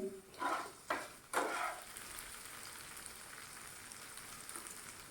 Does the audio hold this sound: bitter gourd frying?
yes